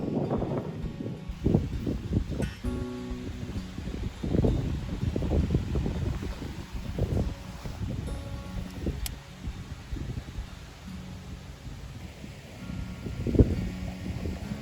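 Gusty wind rumbles and buffets the microphone in uneven bursts, with rustling and low flutter throughout, beside a river in winter.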